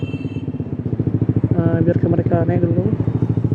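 Motorcycle engines putter with a rapid pulsing throb inside an enclosed parking garage, loud and near, while someone speaks over the engine noise.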